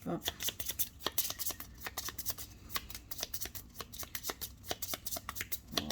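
Cards for the Robinson Crusoe board game being riffled and shuffled by hand at close range, a rapid run of crisp flicks and snaps over about six seconds.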